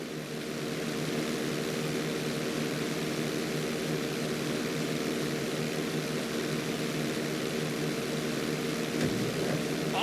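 A propeller plane in GTA V's flight school powering up for takeoff on the runway, a steady, droning engine hum that holds constant throughout, with a brief whoosh near the end.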